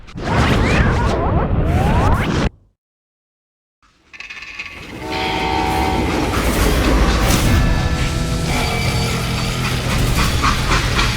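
Train from the video game Call of Juarez Gunslinger, loud rumbling and clattering rail noise that cuts out into near silence for about a second and a half, then resumes as a steady dense roll with bright metallic squeal.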